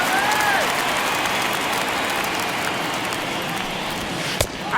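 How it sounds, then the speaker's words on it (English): A 1950 baseball crowd at Ebbets Field in Brooklyn, Phillies at Dodgers, roars and applauds in a steady wash of distant cheering, with a sharp crack near the end. "you can feel this crowd waking up a bit here as the guys are starting to make some noise with their bats"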